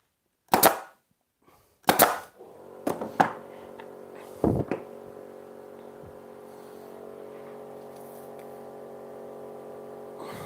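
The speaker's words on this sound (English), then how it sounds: "Let me grab the nail gun again." Pneumatic nail gun driving fasteners into a wooden shelf bracket, with several sharp loud bangs spaced over the first few seconds, followed by a steady low compressor-like hum that continues to the end.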